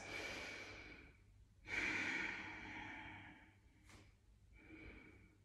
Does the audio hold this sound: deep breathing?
yes